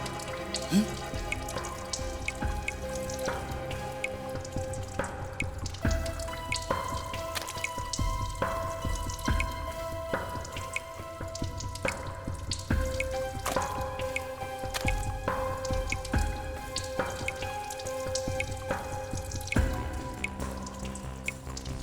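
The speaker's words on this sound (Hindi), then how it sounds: "पानी कहां से टपक रहा है?" Water drips indoors in an office, a steady run of close, sharp plinks and squishy drops repeating for the whole stretch over a faint background hum, with no talking.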